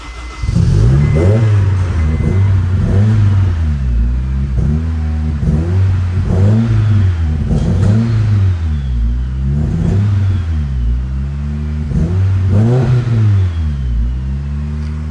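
A cold car engine running just after a head gasket job idles loudly up close with a low, uneven stumble, its rhythmic pulsing roughness repeating steadily throughout.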